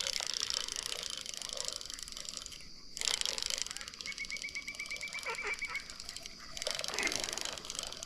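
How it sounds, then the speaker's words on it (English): Ducks and geese at a private pond in Hardy, Arkansas, honk and squabble in loud bursts, with a rapid series of harsh calls in the middle, over steady outdoor background noise. "A little duck on goose action over here."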